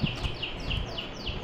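Birds chirp in the Counter-Strike: Global Offensive game world, a repeated series of short high tweets in steady rhythm over a low background rumble.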